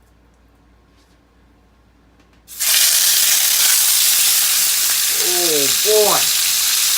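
Sirloin steak dropped into a hot, oiled cast iron pan, setting off a sudden loud, steady sizzle that continues. A short voiced exclamation comes over it.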